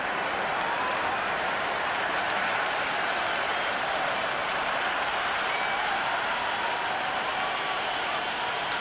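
Cricket stadium crowd applauding and cheering after a six in a Big Bash T20 match between Hobart Hurricanes and Melbourne Stars, a dense, sustained roar of clapping that holds steady throughout at moderate distance.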